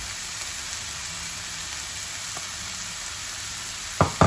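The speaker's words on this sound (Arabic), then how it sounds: "دابا غادي نضيف البصله حمراء وبصله خضراء." Red onion and green onion dropped into hot frying oil give a steady, fairly loud sizzle, with a sharper burst of crackling right at the end.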